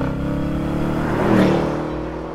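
A 2020 BMW 750 with a V8 accelerates hard, its deep, steady engine note swelling to a peak midway through the short burst before easing slightly, heard close with no voices.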